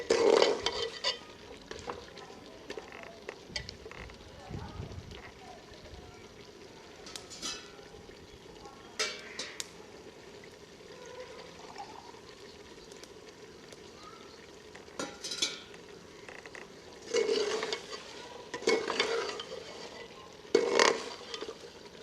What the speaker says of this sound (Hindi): इसे थोड़ा सा भून लेते हैं ताकि इसका फ्लेवर शामिल हो जाए